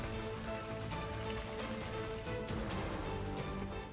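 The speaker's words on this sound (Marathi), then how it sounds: "कोकणामध्ये पावसाची संततधार सुरूच आहे" Steady monsoon rain pours down in Konkan, near the flooding Jagbudi river at Khed, a dense continuous hiss that holds evenly for the whole stretch with no voices.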